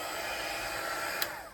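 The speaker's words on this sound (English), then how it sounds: "So I've got my heat embossing tool." A heat embossing tool blows hot air continuously, a steady whooshing hiss like a hairdryer running alone at close range with no talking.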